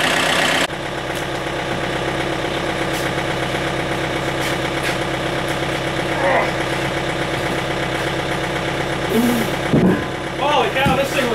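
A tractor engine idles steadily at a bench-repair job in a park, a continuous mid-low rumble with faint clanks and a few brief knocks near the end.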